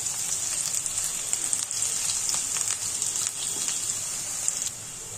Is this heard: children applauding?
no